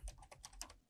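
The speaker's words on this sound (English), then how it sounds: "Now hit the enter button." A computer keyboard being typed on: a short run of about five close, crisp keystrokes ending with the Enter key, while entering a Linux iptables command. The keys sound alone, with no voice.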